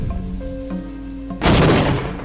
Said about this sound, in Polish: Wysadźmy to.